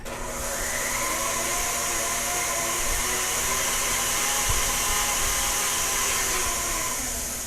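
An electric hand mixer whirs steadily at close range as it blends milk and melted butter into cake batter. The motor hum holds constant and loud for several seconds, with no voices.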